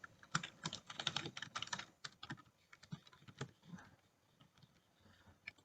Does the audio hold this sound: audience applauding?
no